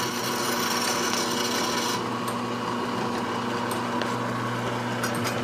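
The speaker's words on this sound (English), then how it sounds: "I got some burrs, so I'm going to just deburr that with this bit." A drill bit deburring freshly drilled holes for an RV step switch, a steady close grinding rasp with a constant motor whine that stays loud throughout, with a few faint ticks near the end.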